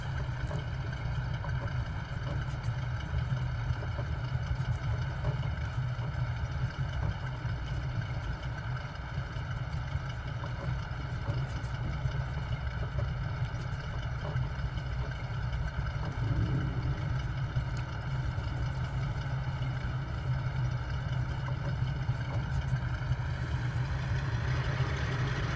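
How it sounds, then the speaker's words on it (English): Two inboard engines of a Short Sunderland MkIII flying boat in a VR flight game run at a steady, even drone, a continuous mid-pitched hum with no breaks and no talk. "I start the two inboard engines."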